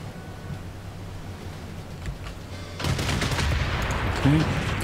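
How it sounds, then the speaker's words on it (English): Civilization 6 unit fires on a city: a muffled burst of gunfire and explosive rumble breaks in partway through, louder than the quiet game ambience before it. "from there it's going to fire into that city"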